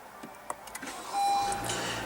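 A 2016 Honda Civic's 2-liter four-cylinder engine, started by push button, cranks and catches after a few faint clicks, then settles into a steady low idle close by.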